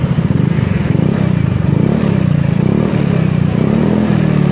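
Honda Beat scooter-style motorcycle fitted with an SKR Racing performance exhaust muffler, idling and revving with a steady, fairly soft low burble that rises slightly at times, close and continuous throughout.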